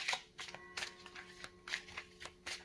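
Oracle cards are shuffled by hand during a tarot reading, giving a quick series of soft, close riffling bursts at a brisk, fairly even rhythm.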